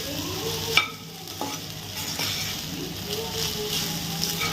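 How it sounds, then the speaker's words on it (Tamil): Beetroot rice is stirred and mixed in a pan, a soft scraping and shuffling of rice over a faint steady sizzle, close up with occasional sharper knocks of the spoon against the pan. "கொஞ்சம் கொஞ்சமா ஆட் பண்ணி மிக்ஸ் பண்ணுங்க"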